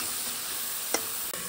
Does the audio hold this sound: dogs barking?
no